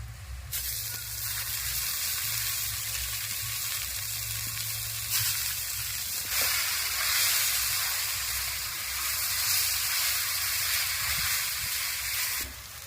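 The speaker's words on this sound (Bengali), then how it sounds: "ভাজা পেঁয়াজ রসুন শুকনো লঙ্কার উপরে সেদ্ধ করে রাখা শাকটা দিয়ে দু মিনিট নেড়ে নিয়েছি" Boiled water spinach sizzles in a pan over fried onion, garlic and dried chilli, a loud, continuous hissing fry with faint stirring underneath, with no voices.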